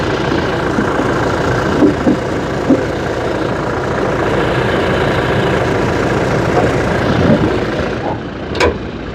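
A Toyota Innova Crysta 2.4 diesel idles smoothly, a steady, even engine drone with a few faint clicks and a brief higher tick near the end.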